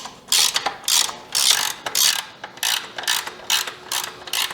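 Ratcheting 17mm wrench tightening a nut onto a stud while assembling an E Ride Pro SS 2.0, a close, loud run of rapid clicking strokes in bursts with brief pauses between pulls.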